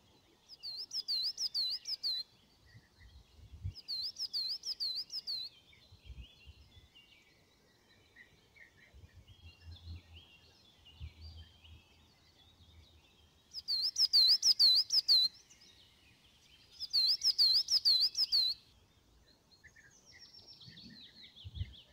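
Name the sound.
songbirds chirping in woodland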